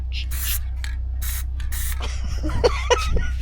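Short bursts of hissing spray from an aerosol paint can, several quick blasts in a row, followed by a faint gasp and some shuffling.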